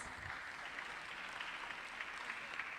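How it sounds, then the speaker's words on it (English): Faint, distant applause from a conference audience fills the room, a dense, even patter of many hands clapping steadily without pause. "Give him a round of applause"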